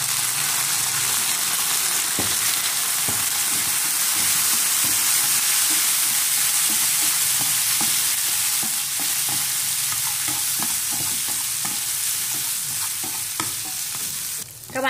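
Pork intestines stir-fry with chili, young bamboo shoots and soy sauce in a hot pan, giving a loud, continuous sizzle broken by repeated scraping stirs, close and with no talking.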